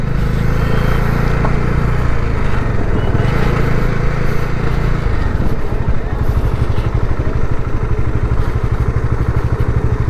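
A motorcycle rides steadily along a road, its engine droning loud and close throughout with continuous rumble and road noise.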